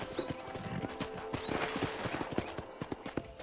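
Horse hooves clip-clopping at a steady trot in Red Dead Redemption, close and distinct, with a brief whinny partway through and a faint ambient backdrop.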